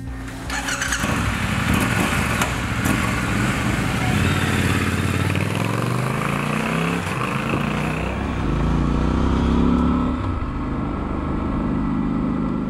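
A Triumph Scrambler 1200 XE motorcycle rides down a road, its engine loud and close, climbing through the gears with rising and falling pitch under steady wind rush.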